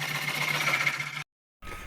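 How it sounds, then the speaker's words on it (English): A wood lathe spins while a small bowl is turned, giving a steady motor whine with a tonal hum. The sound breaks off into a brief silence and then resumes, with no one speaking. "get the lathe going"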